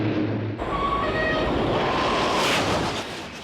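A high-speed train runs along straight, purpose-built dedicated track, a loud, dense rushing roar with faint tonal whines that swells and holds close throughout, without voices.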